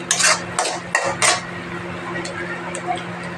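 Paneer bhuna being stirred in a cooking pan, with four quick, sharp scraping clanks of a metal spoon against the pan, then softer occasional taps over a low steady hum.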